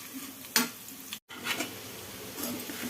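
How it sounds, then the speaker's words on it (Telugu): Bitter gourd pieces fry in a pan with a soft, steady sizzle, broken by a few brief stirring scrapes and one short gap, heard close and alone. "ఈ కాకరకాయ ముక్కల్ని వేసుకొని వేయించుకోవాలి."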